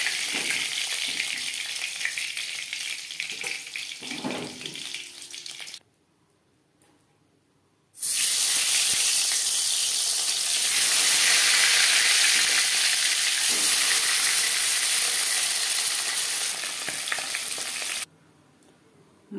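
Tilapia fish pieces fry in hot oil with a loud, continuous crackling sizzle close by; the sizzle drops out briefly, then returns strong and steady with occasional stirring sounds.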